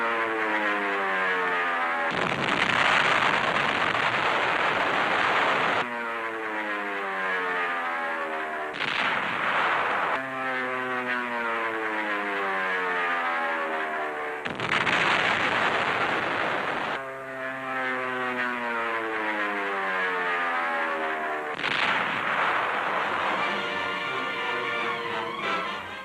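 Navy dive bombers attack Mount Suribachi on Iwo Jima, their engines whining in repeated diving sweeps, broken by heavy blasts of gunfire and explosions, loud and continuous.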